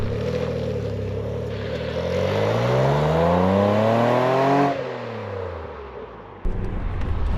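Renault Clio V6 Phase 2 engine with gear trouble revving up in a long rising sweep, holding briefly, then falling away sharply to a quieter idle, followed by a sudden clunk.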